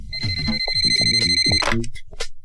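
A telephone ring tone sounds in a Hindi film scene, a steady electronic trill repeating over a backdrop of music and voices before cutting off.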